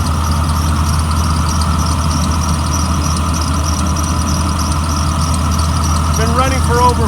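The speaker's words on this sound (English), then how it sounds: "The motor sounds really good." Engine of a 2004 Blue Bird All American 72-passenger bus runs at a steady idle, a loud continuous low hum with faint squeal, and someone speaks briefly near the end.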